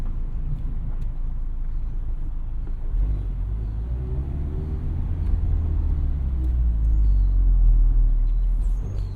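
A Mazda Miata ND1 rolls over speed bumps, giving a steady low road rumble with a swell of heavier thumping and drone toward the end, close and continuous with no talking.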